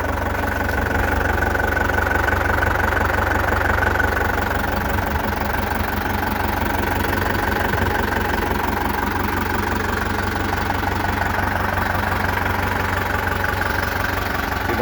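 A Massey Ferguson MF404 farm tractor idles close by, its engine holding a steady, even chug with a faint knocking rhythm that runs unbroken for the whole stretch.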